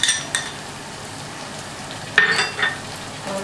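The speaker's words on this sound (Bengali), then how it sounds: "এই টমেটো পিউরিটা আমি পুরোটা দিয়ে দেবো।" Tomato puree going into a hot pan while cooking a Bengali prawn malai curry, a few short sizzling bursts and stirring scrapes over a quiet background.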